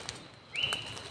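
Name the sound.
cik duit bird calling in forest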